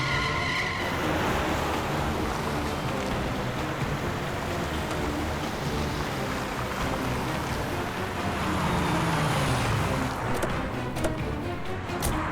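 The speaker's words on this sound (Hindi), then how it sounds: "सर वो देखिए सुनहरी गाड़ी।" A golden car drives fast during a chase, its engine roaring steadily with a rushing, skid-like swell late on. Background music runs underneath, and short sharp accents come near the end.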